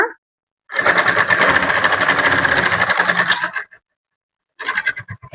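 A sewing machine stitching a fall onto a saree: a fast, close, rattling run of stitches lasting about three seconds, a brief stop, then a short second burst at the end.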